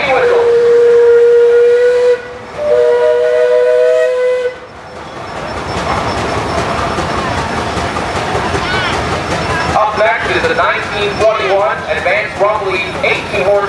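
A Minneapolis steam traction engine at a steam show sounds its whistle in two loud, close blasts with a short break, followed by hissing steam and rumbling engine noise with a voice talking over it.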